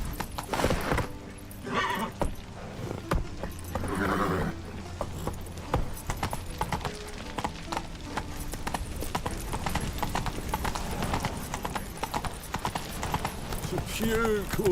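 Roach, the horse in The Witcher 3, galloping with fast rhythmic hoof clip-clops close by, a brief snort or whinny, and someone talking over the hoofbeats.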